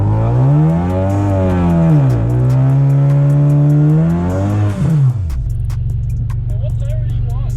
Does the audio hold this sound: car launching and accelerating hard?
yes